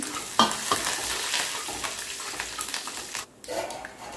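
Tempering oil with curry leaves sizzling and crackling in a hot kadai as a spoon stirs and scrapes through it, steady throughout with a brief dip near the end.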